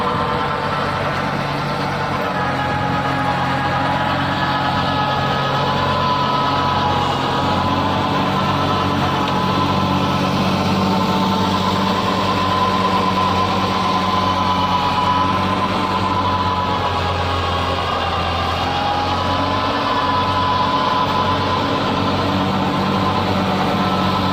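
A New Holland 3630 Special Edition tractor pulls a 10-foot rotavator through straw-covered ground, its heavy diesel engine droning steadily and loudly without pause, with no one talking.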